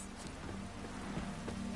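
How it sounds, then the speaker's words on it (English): Steady, dense rain hissing without a break, a constant wash of falling water with no voices. "It's raining buckets!"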